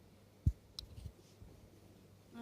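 Victorinox SwissCard Classic mini scissors clicking, a couple of small close snips and clicks with a sharper first one, then faint handling noise in a quiet room.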